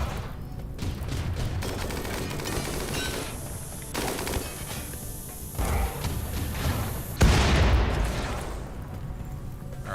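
Rapid bursts of gunfire and booming impacts in a space shooter video game raiding asteroids, dense and continuous near-field firing with a heavier blast about two-thirds through and no talking.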